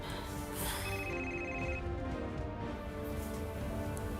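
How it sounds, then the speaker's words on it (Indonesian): A telephone rings in a tense domestic drama scene, its tone steady and continuous throughout with a dense musical score playing beneath. "Jakir telepon mama."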